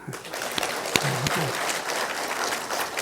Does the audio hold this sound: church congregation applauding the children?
yes